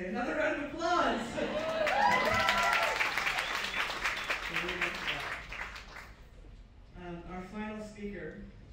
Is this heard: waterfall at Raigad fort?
no